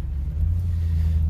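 Low, steady rumble of a Toyota Tundra Double Cab's engine as its open differential lets the wheels spin on snowy ice, a continuous droning hum with slight pulsing, close and fairly loud.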